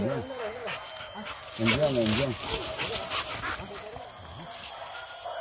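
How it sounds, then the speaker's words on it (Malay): Several dogs on a hunt give out bursts of wavering, high yelps and bays, loudest in a cluster near the middle, with people talking in the background. "Anjing."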